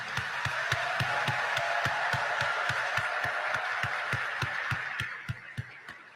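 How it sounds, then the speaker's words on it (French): Audience applause at a ceremony honoring Dr. Aristide, a steady wash of many hands clapping with sharp regular thumps cutting through, sustained at full level before tapering slightly near the end. "qu'il est juste et beau de vous exprimer notre gratitude par ce tonnerre d'applaudissements"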